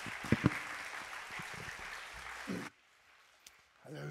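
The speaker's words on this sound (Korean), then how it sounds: "큰 환영의 박수 부탁드리겠습니다." A church congregation applauds in welcome at a Holy Week special service, a steady wash of clapping for about two and a half seconds that cuts off abruptly into near silence, followed by faint movement.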